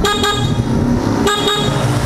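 A motorcycle horn on a Diablo supermoto honks steadily and loudly up close, a sustained buzzing tone broken by a couple of brief dips.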